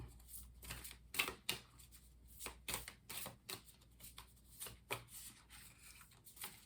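Moonology oracle cards being shuffled and pulled, a run of quick riffling and flicking bursts in an uneven rhythm, close and fairly soft, with no voices.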